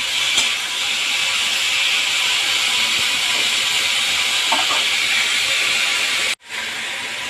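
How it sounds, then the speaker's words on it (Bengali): Vegetables for a vegetarian mushroom curry, with oil, salt and turmeric, frying in a pan, giving a loud, steady broadband sizzle and hiss that runs almost unbroken before cutting out briefly near the end. "এবারে ফুরুটটা ভালো করে ভেজে নেব"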